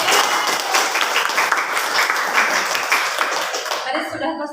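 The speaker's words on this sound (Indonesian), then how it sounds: "Sebelumnya kita kasih aplaus buat kita semua lah." A group applauds after class presentations, with dense continuous clapping close by that holds steady for several seconds before stopping abruptly.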